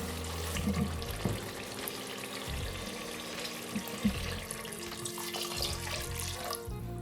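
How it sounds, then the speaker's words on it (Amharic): Water pours steadily into a cooking pot while making dirkosh firfir, a faint continuous splashing stream with a few small knocks, no voices. "የምፈልገውን ያክል ውሃ እከልሳለሁ።"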